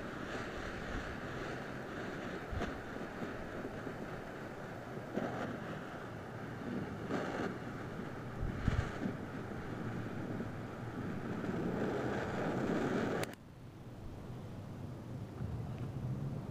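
Outdoor wind gusting and buffeting against the microphone as a steady rumbling roar that swells and dips, cut off abruptly near the end before a quieter stretch.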